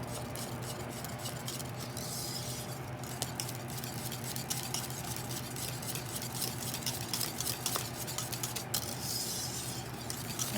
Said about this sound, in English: add butter and our vanilla